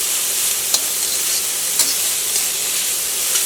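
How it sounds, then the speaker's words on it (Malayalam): Chopped beans and carrots stir-fry in a hot pan for a vegetable dish, giving a loud, steady close sizzle with a few soft scrapes of stirring and no talking. "ഇതിലേക്ക് നമ്മൾ കട്ട് ചെയ്ത് വെച്ചിരുന്ന നമ്മുടെ ബീൻസും പിന്നെ ക്യാരറ്റും ഉണ്ടല്ലോ, അത് കൂടിയിട്ട് ചേർക്കാണ്"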